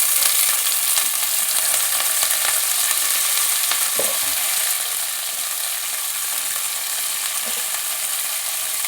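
Curry leaves dropped into about a tablespoon of hot oil in a pan crackle and sizzle loudly and continuously up close, with a couple of faint utensil knocks and no talking.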